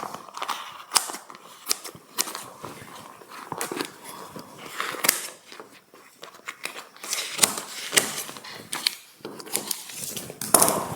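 Scissors snip repeatedly while a cylindrical, bottle-shaped cake is being assembled, producing irregular crisp clicks and cuts up close with small handling noises between them.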